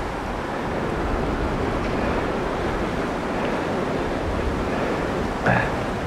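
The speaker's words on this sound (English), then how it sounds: "Look at that wind." Strong wind blows across the shore of Hudson Bay, a constant broadband rush with possible surf mixed in, steady throughout with a brief bump near the end.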